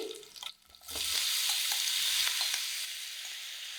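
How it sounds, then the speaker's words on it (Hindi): A loud, sustained sizzle erupts as cauliflower hits a hot pan and keeps frying steadily, with a few soft stirring clinks. "और अब हम डाल देते हैं फूल गोभी।"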